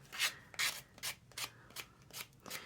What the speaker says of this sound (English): If you don't have a sanding block, you can use an emery board.